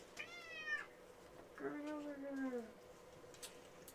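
A Ragdoll cat meows twice up close, a short high call followed by a longer drawn-out one, with a person speaking softly around the calls.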